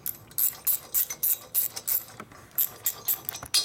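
A quarter-inch drive ratchet works on a 1936 Harley RL 45ci flathead engine during a bobber rebuild, clicking in close, loud bursts of rapid pawl ratcheting with short pauses between strokes and no talk.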